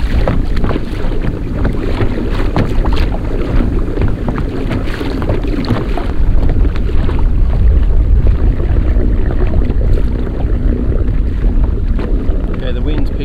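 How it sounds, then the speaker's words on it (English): Strong wind buffets the microphone in a loud, rumbling roar, with water sloshing around a small boat, steady throughout. "the wind's picked up a bit just as I've got out past this point here"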